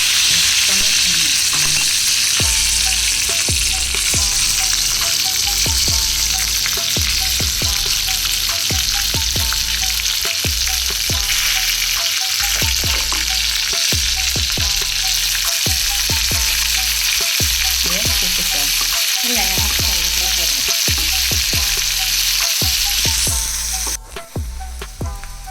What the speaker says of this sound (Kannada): ಅದು ಸಿಡಿದ ಮೇಲೆ ಕರಿಬೇವು, ಬೆಳ್ಳುಳ್ಳಿ ಮತ್ತು ಈರುಳ್ಳಿ ಹಾಕ್ಕೊಂಡು ಚೆನ್ನಾಗಿ ಫ್ರೈ ಮಾಡಬೇಕು.